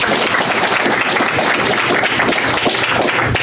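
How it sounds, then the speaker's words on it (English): Audience applause fills the room after a talk on foreign military intervention, a dense, steady wash of many hands clapping at close range with no break for the full length. "I'll have a big round of applause."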